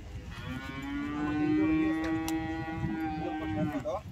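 A Holstein Friesian dairy cow gives one long, drawn-out moo close by, steady and loud for several seconds, with faint background murmur.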